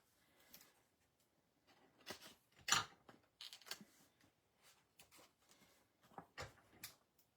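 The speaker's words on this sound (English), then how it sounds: "Scissors." Scissors snip through paper during a foil stamping craft project, a series of short, sharp cuts scattered in irregular bursts, close and fairly quiet, with no talking.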